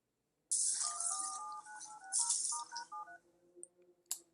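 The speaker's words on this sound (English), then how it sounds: "This is a fast dialing of a phone recording." Rapid DTMF telephone keypad tones from a recorded phone dialing sequence, a quick run of distinct dual-tone beeps over a faint hiss, clear and close, ending with a short click.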